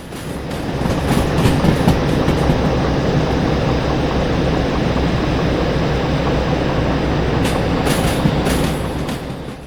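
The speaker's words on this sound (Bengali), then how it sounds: "আমাদের ট্রেন তিরিশ তিরিশের উপরে চলে" A train in the simulation game Derail Valley rolling along the rails at about thirty kilometres per hour, a loud steady rumble with faint rhythmic clicking of the wheels and no talking.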